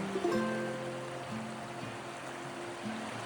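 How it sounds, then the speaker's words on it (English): A river rushes gently through a misty mountain valley on a bitterly cold morning, a steady soft wash of water with faint tonal hums in the background. "broken only by the gentle rushing of the river"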